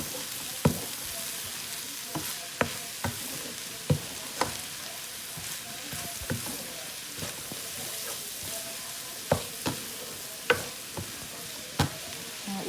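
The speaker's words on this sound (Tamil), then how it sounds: "இதை நல்லா கிண்டி விட்டுட்டு" Chicken fried rice ingredients stirred and frying in a pan, a steady sizzle broken by regular scraping clinks of the spoon about once a second, close and with no talk.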